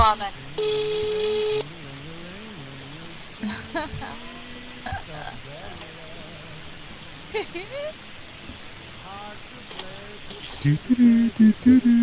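Telephone dialing tones and call audio played back from a laptop during a phone call, with a steady tone burst early on and short beeps near the end, mixed under people talking.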